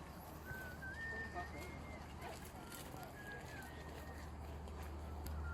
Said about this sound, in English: if you listen carefully, I'm sure you can hear someone whistling